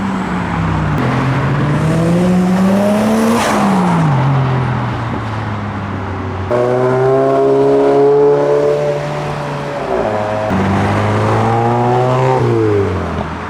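A modified Toyota Chaser loops around a roundabout at a Japanese car meet, its engine revving and droning up and down through the gears, loud and close with shifting pitch and no voices.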